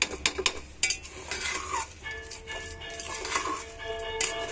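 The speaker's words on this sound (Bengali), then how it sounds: "আর এখন চাল মটর ভালো করে একটু কষাই নিব" Rice and peas being stir-fried in a pot, with metal spoon clinks and scrapes against the pot over a faint sizzle, sharp knocks standing out near the start.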